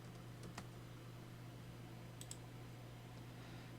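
Quiet, close clicking of a computer keyboard as a name is typed, a few sparse irregular keystrokes over a steady low hum in an otherwise still room.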